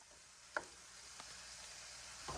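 Zucchini and mushrooms sauté in a pan with a faint, steady sizzle, broken by a few soft clicks and taps of a utensil.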